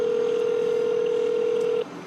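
A telephone call being dialed: a single steady dial tone held for almost two seconds, then cut off, leaving a low line hiss. No voices.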